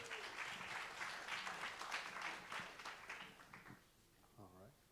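Audience applause at a Data Con LA 2019 conference talk welcoming two speakers, steady dense clapping that fades out, followed by a voice starting to speak.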